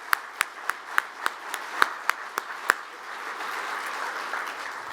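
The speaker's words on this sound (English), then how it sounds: "Let's give them and ourselves a round of applause." Audience at a university celebration clapping: a few sharp, separate claps ring out first, then they blur into a broad, steady round of applause from the crowd.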